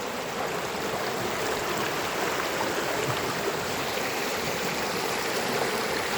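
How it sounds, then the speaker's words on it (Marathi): A clear, clean village stream fed from Manikgad rushes steadily and loudly nearby, a continuous even wash of flowing water with no pauses and no voices. "पाण्याचा ओढा आहे तो"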